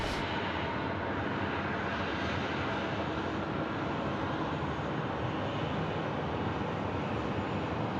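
A Qantas airliner on approach at Sydney Airport gives a steady, broad engine roar that holds loud and constant throughout, with no talk over it.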